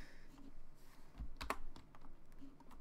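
Typing on a computer keyboard, with quick, close, uneven clicks of keys and one sharper tap partway through.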